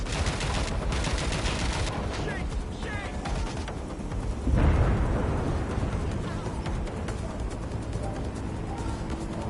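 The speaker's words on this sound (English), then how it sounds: "I heard gunfire." Gunfire in the video game Watch Dogs: Legion, dense bursts of shots and booms forming a continuous loud battle din with a heavier blast midway.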